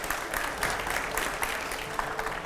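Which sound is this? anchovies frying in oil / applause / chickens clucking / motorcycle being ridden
applause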